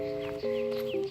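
A horse on a hill-station street in Darjeeling gives a short whinny-like call with steady tonal pitch and a couple of step changes, fairly close and alone, with no talk over it.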